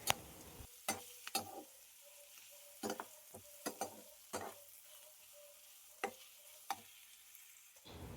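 Ground masala ingredients fry in a pan for chicken sambar, a faint steady sizzle broken by repeated sharp scraping and stirring clicks at irregular intervals.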